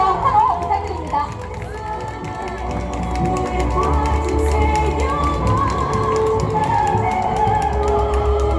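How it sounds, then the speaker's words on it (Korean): Outdoor crowd at a political rally in front of the Seoul city council building, cheering and clapping for an incoming speaker; a loud, sustained roar of voices and applause with rhythmic stamping or tapping underneath. "큰 박수와 환호 부탁드립니다"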